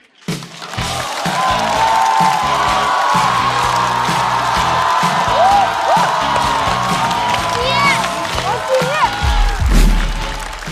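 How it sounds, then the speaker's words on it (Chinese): A stand-up comedy audience erupts into loud clapping, cheering and whooping as a comedian takes the stage, with whistles rising through the roar and a deep thump near the end. "掌声欢迎季烨"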